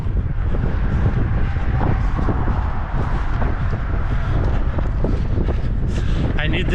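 Strong wind of about 23 mph blasts across a bridge during a marathon, a loud, constant roaring buffet on the microphone with no break.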